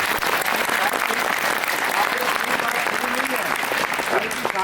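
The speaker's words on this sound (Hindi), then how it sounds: "ये तालियां आपकी कम है।" A congregation at a Sikh religious ceremony celebrating a family's newborn son claps in a continuous, lively round of applause, dense and close throughout, with voices faintly mixed in.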